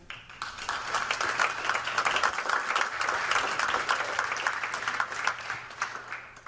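An audience at a fintech demo day event applauds to welcome a speaker back to the stage, dense sustained clapping from many hands that swells quickly and holds steady for several seconds.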